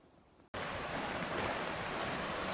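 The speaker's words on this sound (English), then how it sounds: "Here's the Temperance River." The Temperance River on the Superior Hiking Trail rushes loudly and continuously, a dense close-up roar of flowing water that starts abruptly after a brief quiet moment.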